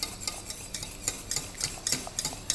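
A spoon stirs cheese and egg yolk into simmering white sauce in a pan, giving a series of scraping, swishing strokes at an uneven rhythm, close and clear, with a faint sizzle beneath and no talking.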